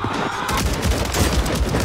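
Rapid gunfire in the video game Warzone, a dense burst of overlapping shots and booms filling the short moment at close range.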